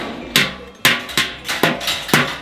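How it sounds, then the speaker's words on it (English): Coppersmiths in the copper quarter of the Fes medina beat copper with hammers, giving loud, ringing metallic blows at an irregular, unhurried pace against a busy street background. "So you can hear all this loud banging behind me."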